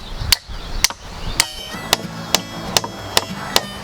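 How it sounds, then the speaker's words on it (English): Hammer driving nails into wood at an outdoor bush camp: seven sharp, loud, evenly spaced strikes about half a second apart, each ringing briefly, with a low rumbling background between blows. "When you use a hammer, use the weight of the hammer"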